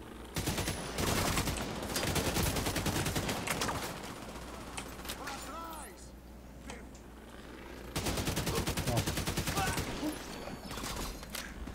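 Gunfire and explosions in the video game The Division 2 come in dense, rapid bursts of automatic fire, split by a quieter gap before another loud barrage.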